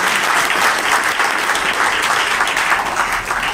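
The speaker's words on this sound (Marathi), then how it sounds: "उपनयन संस्कार झाला म्हणून टाळ्या वाजवण्याची गरज नाही" An audience at a Narmada parikrama pilgrims' gathering in Pune claps together in dense, loud, sustained applause that fills the whole stretch without a break.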